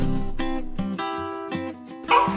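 Chow Chow dog barking in a quick run of five or six short, close, tonal barks with a rising yelp at the end.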